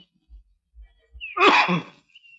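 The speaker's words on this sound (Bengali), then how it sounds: "বড় কাশি হচ্ছে" One harsh, explosive cough from an older man in a Bengali film scene, close and alone after a few soft low thumps, then quiet.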